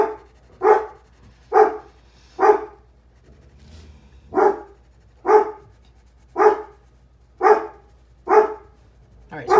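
A dog barks repeatedly at the trash indoors, nine or so loud, close barks in a steady rhythm with a short pause partway through.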